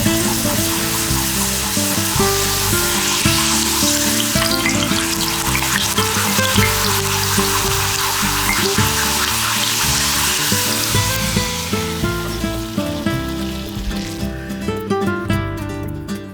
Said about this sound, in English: Now I'm just gonna fry up some corn tortillas